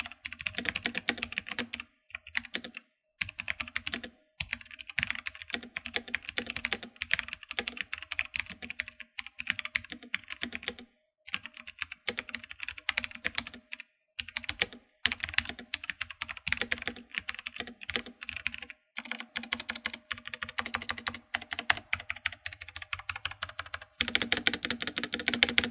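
Typing on a Razer BlackWidow Tournament Edition Chroma keyboard with Razer Orange tactile switches, a long run of close, crisp keystrokes in quick irregular bursts with brief pauses between flurries.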